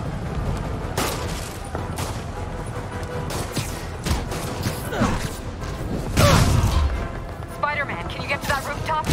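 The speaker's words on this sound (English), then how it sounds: "somebody's shooting me" Gunfire aimed at the player in a Spider-Man game on PS4, scattered sharp shots and thuds mixed with crashes and mechanical noises, with a person talking throughout.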